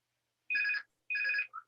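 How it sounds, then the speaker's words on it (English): A mobile phone rings at a parish council planning committee meeting, two short electronic trills separated by a pause, close and clear in an otherwise quiet room. "and that's my phone."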